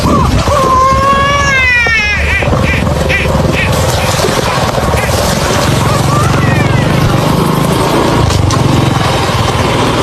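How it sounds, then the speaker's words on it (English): An eerie, baby-like wailing cry rises and falls in the open countryside, recorded while riding a bike, heard over constant loud wind and rumble. "An isolated baby's cry echoing through the middle of nowhere."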